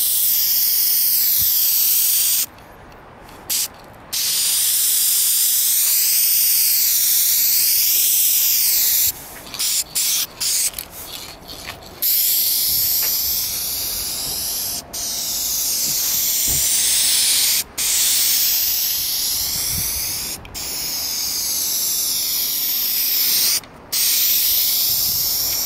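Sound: Dupli-Color spray paint being sprayed on car part

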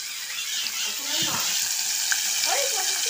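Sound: fish frying in a pan

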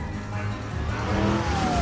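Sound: car driving

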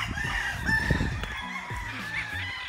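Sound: rooster crowing

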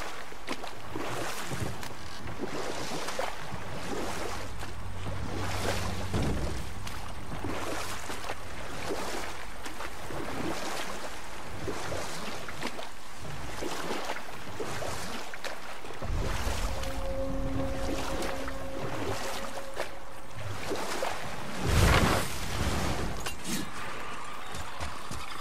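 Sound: boat on water in God of War video game

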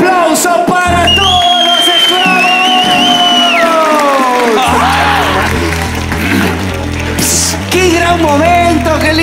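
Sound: applause for everyone

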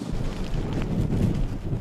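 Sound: wind during nor'easter storm

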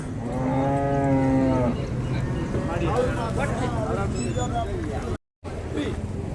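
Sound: cattle mooing at a cattle market

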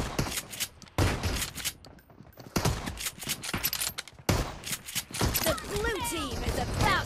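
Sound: gunfire in video game PUBG Mobile

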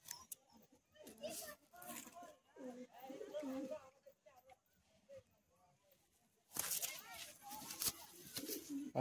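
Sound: pigeons cooing

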